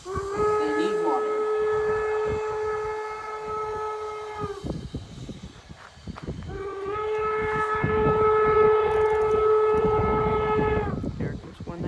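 A loud steam locomotive, number 119, blows its whistle in two long, sustained blasts with a short gap between them, over a continuous rushing hiss of steam, at Golden Spike.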